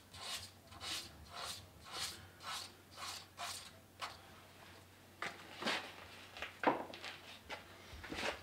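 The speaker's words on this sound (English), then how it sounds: "I used a little sanding sponges." Steady back-and-forth rasping strokes of a 220-grit sanding sponge on a wooden birdhouse ornament, about a dozen even passes, then a few irregular scrapes, close and fairly quiet.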